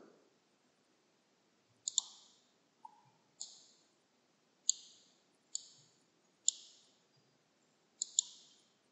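A computer mouse in Paint gives about eight sharp, faint clicks, spaced irregularly and some in quick pairs, in an otherwise quiet room.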